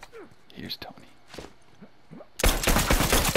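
Rapid burst of gunfire from a derelict-themed shooter game erupts loudly near the end after quieter moments with whispered speech.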